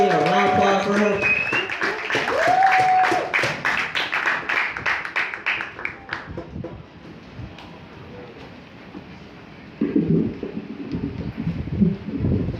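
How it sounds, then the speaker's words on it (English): A college open mic crowd claps and cheers for a performer, with bright whoops over dense clapping that dies down to scattered claps and murmuring, then a brief renewed swell with voices. "Can we get a round of applause for her?"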